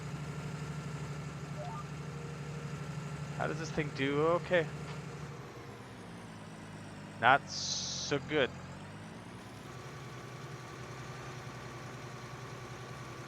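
Tractor engine in Farming Simulator 19, a steady low idling drone running under the whole stretch, with a few louder knocks and clatters and short bursts of talk over it.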